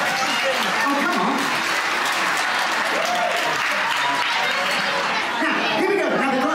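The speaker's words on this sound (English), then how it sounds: "this little trick usually gives me a nice little round of applause." Crowd applause following a magic trick, a dense, loud wash of clapping that holds steady throughout, mixed with chatter and voices talking over it.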